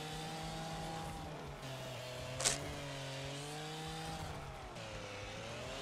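Engine of an old BMW M3 driving in the Wreckfest racing game, a steady droning hum with shifting pitch that holds throughout, with a brief sharp burst partway through.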